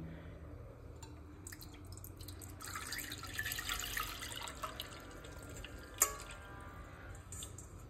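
Thick ragi batter for Goan nachni satva trickling and dripping through a kitchen strainer into a pan, a soft continuous liquid pour that swells midway and ends with a small clink of metal.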